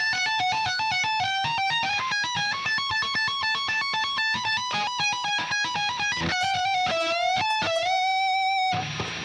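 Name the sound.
electric guitar playing a solo slowly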